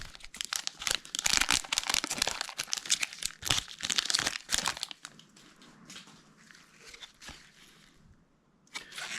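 A foil card pack from an Upper Deck Marvel blaster box is ripped open up close. Loud crinkling and tearing bursts for several seconds, then quieter rustling of the wrapper and cards.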